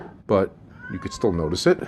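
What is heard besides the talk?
cat meowing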